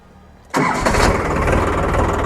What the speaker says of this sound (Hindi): अगर ट्रैक्टर का स्टार्टिंग साउंड आप देखेंगे